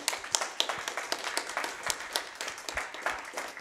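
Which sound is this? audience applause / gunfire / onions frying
audience applause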